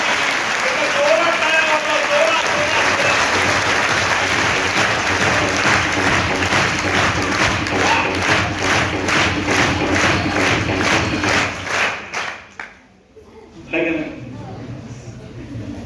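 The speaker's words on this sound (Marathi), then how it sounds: "कशा टाळ्या हाणता" Audience applause at a school play, a dense sustained clapping from a large crowd that runs loud for about twelve seconds, then breaks off. A voice speaks over the quieter remainder.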